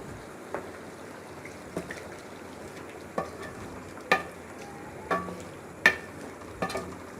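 Beef karahi frying in ghee gives a low, steady sizzle, broken by a regular series of sharp spoon clinks and scrapes against the pan, roughly one each second.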